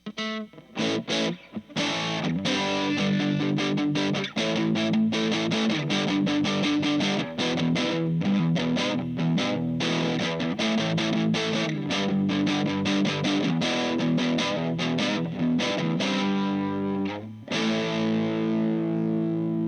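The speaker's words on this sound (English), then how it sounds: "little heavier distortion." Heavily distorted electric guitar, a rebuilt vintage Japanese guitar, chugs continuously with fast, dense strumming, loud and sustained, ending on a ringing chord.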